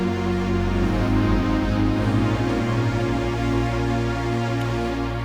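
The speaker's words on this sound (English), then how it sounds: "It's called Matrix Pad. Sounds like this." A sustained synthesizer pad from the factory preset Matrix Pad, bank 2 number 34, holds a thick, steady chord with slowly shifting upper harmonics, loud and alone for about five seconds.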